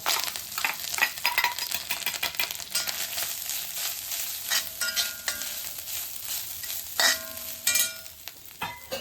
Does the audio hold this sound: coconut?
yes